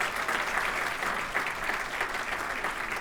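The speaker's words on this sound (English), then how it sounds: "Another round of applause for Donna" Steady, dense applause from an audience at a Torrance Area Chamber of Commerce gathering, sustained evenly at close range for the full stretch with no voices over it.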